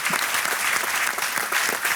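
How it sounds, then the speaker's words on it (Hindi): A studio audience at a televised quiz show applauds to welcome a returning contestant, a dense, even wash of clapping that stays loud and steady for a couple of seconds. "तालियों के साथ इनका स्वागत और अभिनंदन करते हैं"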